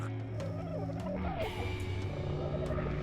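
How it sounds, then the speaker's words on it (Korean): Turkey-like gobbling bird calls from dodos in the ARK survival game, repeated warbling bursts over a busy, continuous game soundscape with other layered noise throughout. "새소리가 이렇게 많이 들리냐? 도도 소리가 들리."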